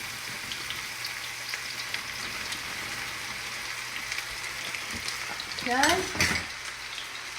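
Okra frying in hot oil gives a steady dense sizzle throughout, with a brief stirring scrape and clatter near the end and one short spoken word.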